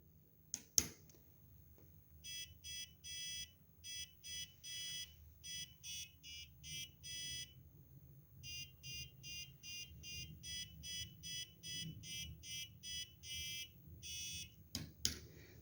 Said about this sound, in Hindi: तो ये हमारे पास क्रिसमस का टोन था।